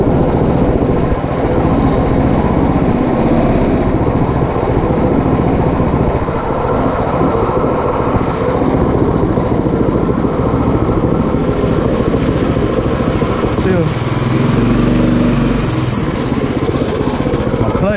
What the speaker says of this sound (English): So now I want to go do a top speed run.